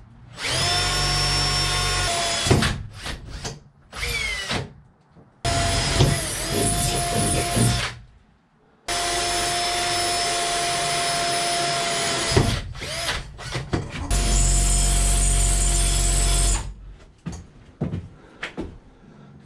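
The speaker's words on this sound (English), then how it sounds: "I think I need sharper drill bits." Power drill boring holes through the roof of a 5x8 cargo trailer for a vent, in several loud sustained bursts of whining motor with short pauses and clunks between them.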